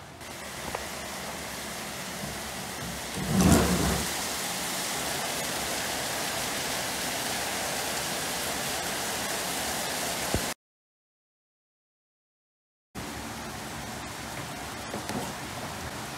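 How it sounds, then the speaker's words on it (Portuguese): Steady, constant rain hisses evenly outside a window, with one brief louder patter near the start, then a short dead silence before the downpour resumes. "A gente tá uma chuva bem constante aqui, não sei se vocês estão ouvindo barulho."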